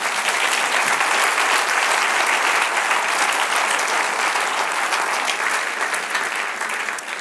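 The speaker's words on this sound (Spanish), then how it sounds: "Dar un aplauso al Señor." Church congregation applauding, a dense sustained burst of clapping from a crowd filling the room, fading slightly at the end.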